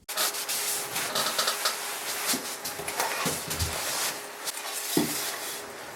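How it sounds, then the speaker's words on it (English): Fine sandpaper is rubbed over wood to clean smoke marks from a fresh laser engraving on a restored 1950s school desk. The scratchy rasping strokes are steady, close and fairly loud, with small bumps in rhythm. "it's just easy to rub it over with a bit of fine sandpaper just to clean that up"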